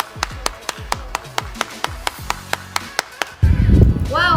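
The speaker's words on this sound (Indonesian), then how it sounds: "Oke, tepuk tangan buat Ari." Audience at a campus talk by information systems students claps for Ari, starting as evenly spaced single claps over low talk and swelling into louder, busier crowd noise.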